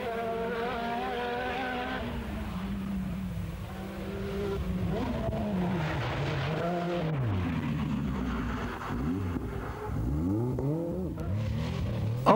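Rally car accelerating hard on the gravel stages of the 1984 Rallye des 1000 pistes, engine note rising and falling through repeated revving sweeps and gear changes, loud and close throughout.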